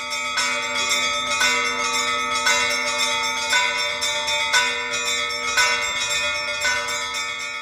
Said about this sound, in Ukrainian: Інакше кажучи, великий дзвін створює ритм.